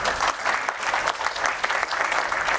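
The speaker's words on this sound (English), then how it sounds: "Can we give a quick round of applause for that?" A crowd claps steadily in a short burst of applause, fairly even and sustained, with no talking over it.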